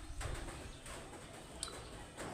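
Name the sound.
flock of birds over rice field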